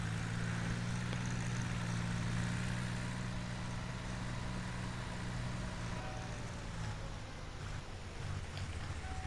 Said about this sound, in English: Such a good little tractor.